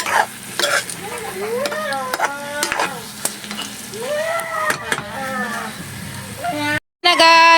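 An egg frying in a pan, a soft sizzle with stirring scrapes running under loud, animated talk with rising and falling tones, plus a brief sharp dropout near the end.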